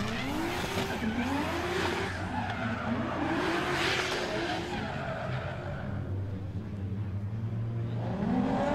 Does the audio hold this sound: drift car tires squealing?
yes